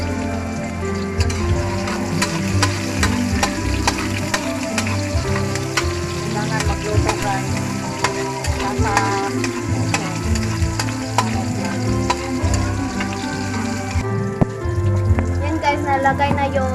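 Garlic frying in a hot pan for pinakbet gives a steady, dense sizzle with stirring scrapes, busy and continuous throughout.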